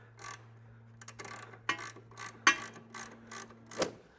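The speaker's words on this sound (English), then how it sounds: "maybe a couple of twists with our ratchet" A hand ratchet tightens a nut on a shock absorber bolt, giving about a dozen close, crisp clicks in uneven short bursts over a steady low hum.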